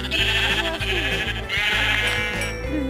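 Several sheep bleat in quick succession in Minecraft Pocket Edition over a steady electronic game soundtrack, the cries repeating in an uneven rhythm.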